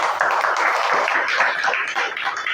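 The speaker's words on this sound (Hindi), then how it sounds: "उनके लिए भी एक जोरदार ताली हो जाए" Loud, dense applause from an audience honoring Arjun Kumar Mandal and his wife Indu, a steady wash of many hands clapping for a couple of seconds.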